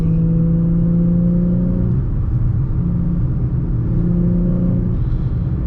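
An Infiniti G35 pulls hard in third gear, its engine droning loud and steady from inside the cabin, the tone rising, easing briefly near the middle, then climbing again.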